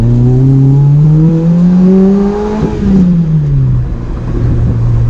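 A Lotus Exige engine revs loud and close, its pitch climbing for a few seconds and then dropping away in a smooth sweep before settling into a steady drone.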